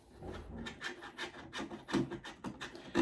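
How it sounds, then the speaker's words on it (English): A screwdriver backs screws out of computer parts while NVMe drives are being mounted, making faint, close, irregular scraping and rubbing sounds over about three seconds, with no speech. "So we're going to slowly start taking these screws off."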